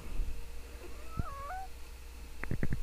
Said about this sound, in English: Your meow of pain.